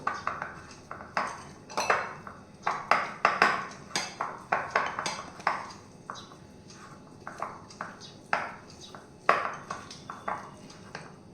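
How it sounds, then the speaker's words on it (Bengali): Mustard oil paste being mixed in a bowl, with a run of quick clinking taps and scrapes of a spoon against the dish, close up and uneven in rhythm. "এবার আমি পুরো মিশ্রণটা ভালো করে মিশিয়ে নেব।"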